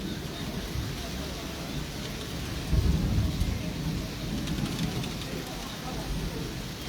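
A thunderstorm with steady rain pouring on surfaces and a deep thunder rumble swelling near the middle, with a faint voice in the background.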